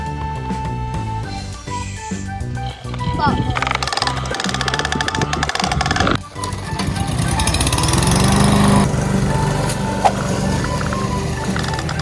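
A toy lawn mower whirs and rattles continuously at close range, with excited voices talking over it.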